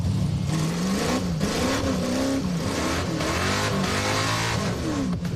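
A 1974 AMC Javelin's engine revs hard and continuously, pitch rising and falling as the throttle is worked, loud and close with no talking.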